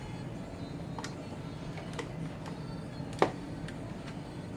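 A 12 mm socket ratchet works a bolt loose during alternator removal on a Nissan Altima, giving faint, scattered clicks with one sharper snap over a quiet background.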